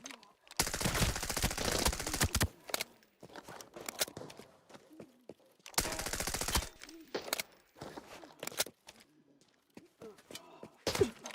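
Bursts of HK automatic rifle fire in Arena Breakout Infinite, two long loud volleys followed by scattered single shots and short quieter bursts between pauses.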